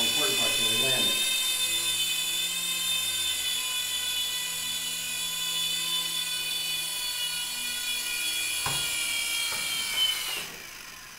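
An ARES MD500D CX 100 micro RC helicopter hovers close by with a steady high-pitched whine that shifts slightly in pitch, then spins down and stops as it lands near the end, with a voice speaking underneath.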